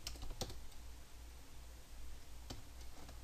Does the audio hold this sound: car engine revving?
no